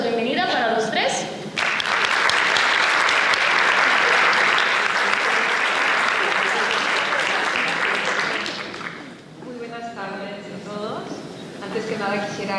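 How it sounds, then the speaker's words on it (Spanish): Welcoming applause from a conference audience at a round-table panel, building to a loud, dense ovation that lasts several seconds, then fades into a softer patter as voices begin talking over the tail. "un aplauso de bienvenida para los 3"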